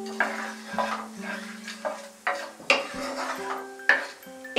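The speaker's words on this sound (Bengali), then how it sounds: "ফোড়নটাকে আমি 15-20 সেকেন্ড ফ্রাই হতে দেব।" Whole spices (cardamom, cloves, cinnamon, black pepper and cumin) frying in oil for a chicken do pyaza, with soft sizzling under repeated clinks and scrapes of a utensil stirring against the pan.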